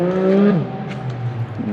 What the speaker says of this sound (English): Look at there's a Porsche. There it is. Some rev matches.